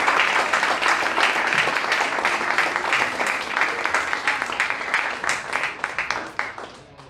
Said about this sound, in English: Final round of applause for our future leaders